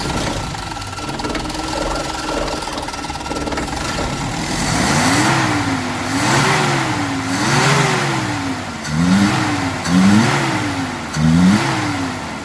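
A car engine, running again after its ignition distributor was repaired, idles and then revs repeatedly through low, mid and high RPM, each rev swelling and falling back in a steady rhythm close by.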